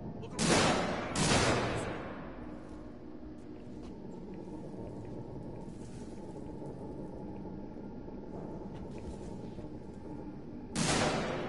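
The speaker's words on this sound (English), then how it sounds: "Shooting at me." A few booming shots in the video game Alien Isolation: two heavy blasts close together near the start, a long low rumbling lull, then another loud shot at the end.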